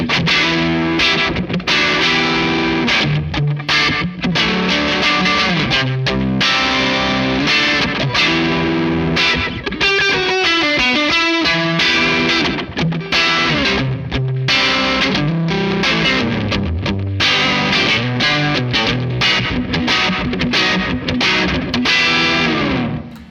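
Continuous distorted electric guitar riffing with a delay pedal effect thickening each note, steady and loud for the whole stretch with no pauses or talk.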